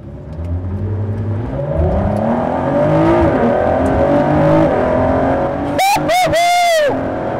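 A Ford GT with an EcoBoost engine, driven in track mode at Road America, accelerates hard: a loud, close engine note climbs steadily, then bursts into several sharp revs near the end, with voices faintly underneath.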